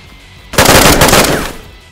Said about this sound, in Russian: Стрельба.